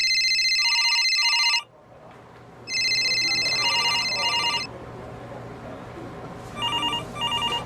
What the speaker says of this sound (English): Somebody has to get the phone, yeah?